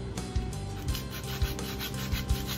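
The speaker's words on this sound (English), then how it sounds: "Now, start sanding the tip." A pool cue tip is sanded by hand to remove glazing, giving a steady close rasping rub with rhythmic strokes about every half second and no talking.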